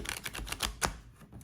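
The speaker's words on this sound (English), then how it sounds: "So I'm going to shuffle one more time" Tarot cards are shuffled by hand in a quick run of crisp riffling clicks and flutters, close and fairly quiet, with no talking.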